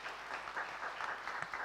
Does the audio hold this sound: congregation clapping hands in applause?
yes